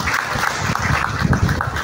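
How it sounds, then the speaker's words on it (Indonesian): A seated audience gives a round of applause for Pak Denon, a dense, loud, continuous patter of many hands filling the short moment. "Tepuk tangan untuk Pak Denon."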